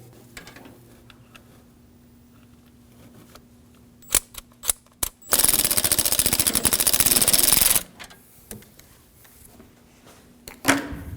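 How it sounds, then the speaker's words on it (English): Ratchet wrench backing out a 10mm bolt holding an ignition coil pack on a 2013-2015 Subaru XV Crosstrek 2.0L H4, a rapid continuous clicking burst of about two and a half seconds, preceded by a few sharp metallic clicks and followed by one more. "To remove the coil pack, we'll take out this 10mm bolt."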